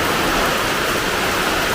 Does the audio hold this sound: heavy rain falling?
yes